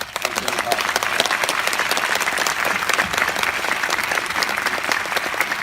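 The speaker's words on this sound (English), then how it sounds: "round of applause, please" A crowd at the London premiere of the film Warcraft applauds after a Q&A with the director and cast, a steady, full wash of clapping that holds for several seconds.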